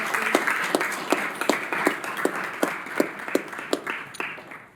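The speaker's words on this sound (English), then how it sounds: "One more round of applause for all the people." Audience applause at a city council meeting comes as a steady patter of many hands, with a few sharper claps standing out over a moderate, continuous wash.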